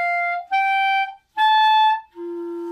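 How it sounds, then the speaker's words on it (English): Clarinet with a too-soft reed attempting high C, producing thin sustained tones broken into short separate blasts, with a lower undertone sounding in the last note; close and solo, no talking. "trying to play high C and I'm getting that annoying little undertone"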